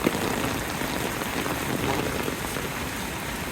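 Steady monsoon rain falls on surfaces close by at Marleshwar in Maharashtra, a continuous patter of drops with a sharp tap at the very start and no voices.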